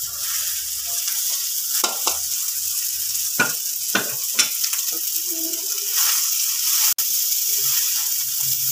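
Boiled rice is stirred into spices in a hot pan, giving a steady sizzling hiss broken by a series of scraping strokes and clacks from the spoon. No one speaks.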